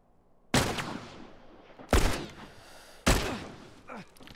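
Gunfire in the video game The Last of Us: three separate loud shots about a second and a half apart, each a sharp crack followed by a short decaying echo.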